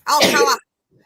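A single loud, close sneeze bursts out for about half a second, then gives way to near silence with only a faint trailing sound.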